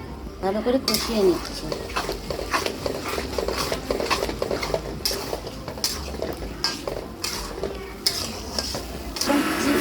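Turmeric, salt and chili powder sautéing in a pan for a Kali Puja bhog dish, with a steady sizzle under repeated scraping and clinking of a spatula against the pan, close and fairly loud.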